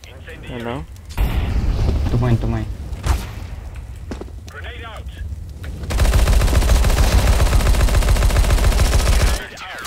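Gunfire and a grenade blast in a multiplayer matchmaking shooter game, scattered shots under excited player voices, then a sustained loud roar of explosion and rapid fire lasting several seconds.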